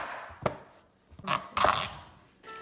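A knife cuts through a garden-fresh pumpkin in a few separate strokes, each a short crunchy chop or slice against the board, close and fairly loud with quiet gaps between.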